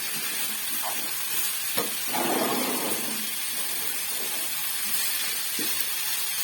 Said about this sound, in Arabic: انا غادي نزيد خيزو وفلفله يتسخروا ليا هادو شويه